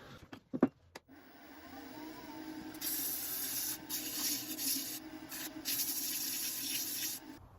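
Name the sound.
sanding the inside of a wooden apple box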